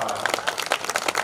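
An audience claps at a kavi sammelan poetry recital at the Kishanpur mela, a brief burst of uneven, scattered applause close by while a voice talks over it.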